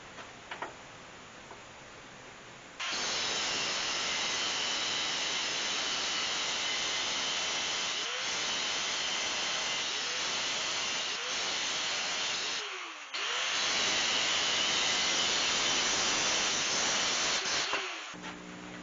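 A loud, steady hissing whine of a 1/16-inch abrasive cutoff wheel grinding through metal, starting after a quiet moment, briefly easing off midway, then resuming.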